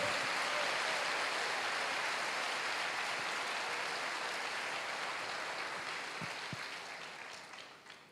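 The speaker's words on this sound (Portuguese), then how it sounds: "Você pode aplaudir o Senhor?" Applause from a church congregation during a sermon, a steady broad wash of clapping that holds evenly and slowly fades toward the end, with no talk over it.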